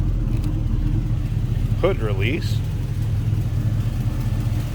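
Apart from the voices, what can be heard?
1940 Ford Deluxe Coupe engine running, mild cam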